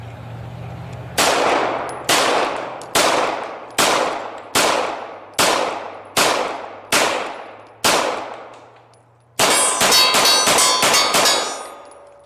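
Nine evenly spaced pistol shots from a Glock 19 and a Beretta 92FS ring out at paper targets, each loud crack trailing off in a short echo, followed by a quick rapid string of shots fired close together.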